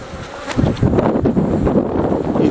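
Honey bees buzz in a dense, steady swarm around an open beehive at an apiary, the close, loud hum rising and falling as individual bees pass near.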